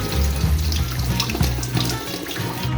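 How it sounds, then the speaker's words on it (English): Oysters are rinsed under a running kitchen tap, a loud, close gush of water splashing and gurgling continuously over the shells, with no talk. "Now let's give our oysters a clean bath by washing it under running water."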